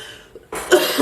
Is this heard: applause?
no